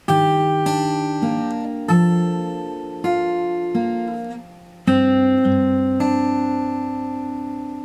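Guitar picks a slow pattern from a song, pairing a low E with higher notes and an open B, each note left to ring and decay, close and solo with no voices.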